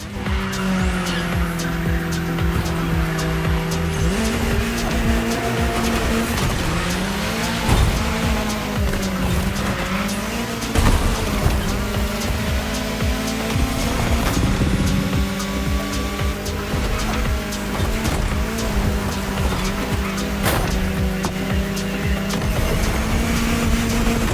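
Car engine droning steadily through a city in the Motorfest racing game, with tire squeals and skids breaking in at intervals, loud and continuous from start to finish.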